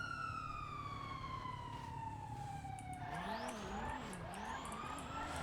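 In a GTA role-play video game, a police siren wails with a long descending tone, then shifts into rapid yelping warbles, over steady engine noise and a faint skid.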